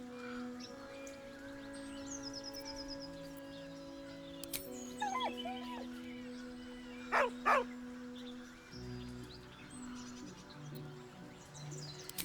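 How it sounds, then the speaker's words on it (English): A dog in the video game Baldur's Gate 3 gives a few short, close whines and yelps over a steady tonal music bed, with faint chirpy sounds scattered through. "With a deep, heartbroken whine, the dog bows his head."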